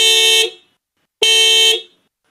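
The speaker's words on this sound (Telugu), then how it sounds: "జనరల్గా షోరూమ్ నుంచి వచ్చిన హారన్ వినిపిస్తాను" Stock showroom horn of a Toyota Fortuner Legender, two loud close honks of about half a second each separated by a pause, with no voices.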